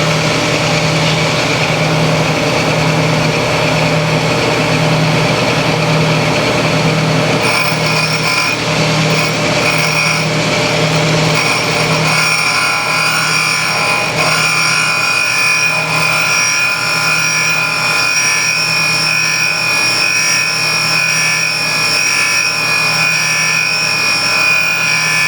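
A valve grinding machine refacing an engine valve during a GM 5.3 engine overhaul gives off a steady, loud, continuous grinding whine with a bright metallic edge. A fainter mechanical hum runs beneath it throughout.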